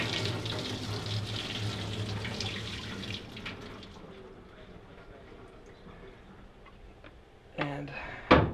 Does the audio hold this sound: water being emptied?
yes